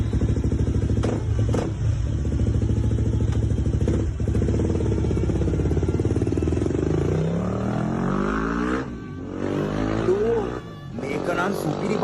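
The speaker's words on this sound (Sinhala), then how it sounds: "කො බලපංකෝ මගේ බයික් එකේ වටයක් පැදලා බලපංකෝ කොහමද ගැම්ම කියලා බං" A motorbike being ridden around, its engine roaring steadily up close with revving swells and a rising pitch sweep, while people talk over it.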